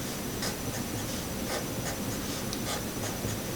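A pen scratches across paper while a chemistry structure is drawn by hand, quick close strokes with short rhythmic taps, steady and alone without talk.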